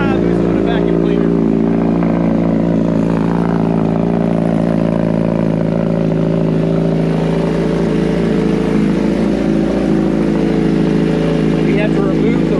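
A 2022 Suzuki Hayabusa cold starts with a new aftermarket exhaust system, settling into a loud, steady, deep idle rumble close by that runs unbroken throughout.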